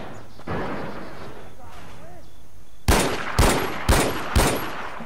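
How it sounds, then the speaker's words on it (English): Four loud, evenly spaced gunshots ring out in Far Cry 4, each a sharp broadband blast with a brief tail, following quieter game ambience and speech. "Took four shots, all of my ammunition, unfortunately."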